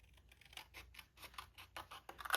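Scissors cut paper for an orange journal project, a quick series of close, crisp snips and rustles, fairly faint and without talk.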